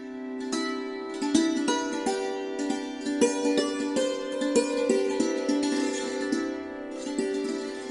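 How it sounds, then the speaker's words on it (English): A santoor's bright metallic strings struck rapidly with hammers, shimmering tones ringing and overlapping in a steady, flowing melodic pattern, close and clear with no voices. "This was the sound of santoor"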